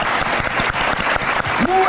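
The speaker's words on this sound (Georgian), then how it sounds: "აპლოდისმენტებს გასვათ" Studio audience applause on a Georgian evening television comedy show, a dense steady wash of clapping that fills the whole stretch at close, loud level with brief dips in intensity.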